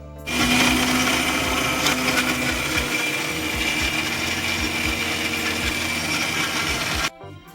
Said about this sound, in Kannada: ಬನ್ನಿ ಇವಾಗ ಡೈರೆಕ್ಟಾಗಿ ಮಿಕ್ಸರ್ ಹಾಕೋಣ